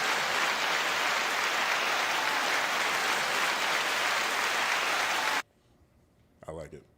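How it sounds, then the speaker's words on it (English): Studio audience applause, a dense steady roar of clapping held for about five seconds before cutting off abruptly, followed by near silence and a brief voice. "second applause."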